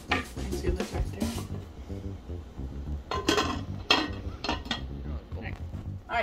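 Metal lid set onto a cooking pot of nshima in a home kitchen, a series of close, bright clanks and rattles of metal on metal, with utensil clinks spread over several seconds.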